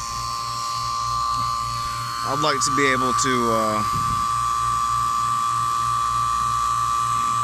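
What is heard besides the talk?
vacuum pump running on Trane system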